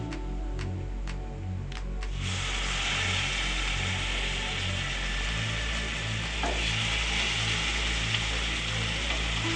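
Marinated chicken pieces for tandoori chicken sizzle in a hot pan, a steady loud broadband hiss that swells after a couple of seconds and continues unbroken, with a low repeating mechanical hum underneath.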